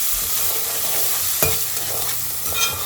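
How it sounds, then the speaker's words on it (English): Chilies, spring onion, mint and coriander sizzle steadily in a pan, with a close, even frying hiss and a brief scrape of stirring midway, no voices. "Spring onion, mint and coriander. Let them nicely fry for a bit."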